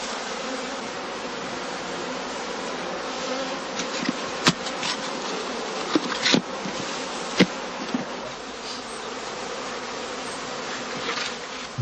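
Honey bees buzz in a dense, continuous hum around traditional straw skeps, near and steady with a few brief louder passes of individual bees.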